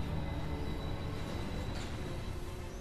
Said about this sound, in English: The train almost killed me.